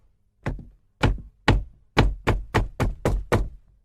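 A run of eight sharp knocks on a door, a few spaced hits followed by a quicker cluster, loud and close with no other sound around them.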